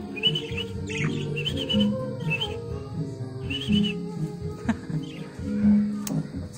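Six lovebirds chirp and tweet repeatedly in short bursts over a steady low hum, fairly close, with busy overlapping calls.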